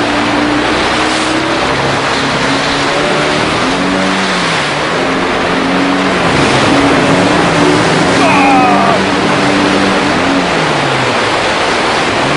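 A 40-horsepower outboard engine on a large boat labours up a river rapid in Borneo, a loud, continuous drone with shifting pitch over rushing water.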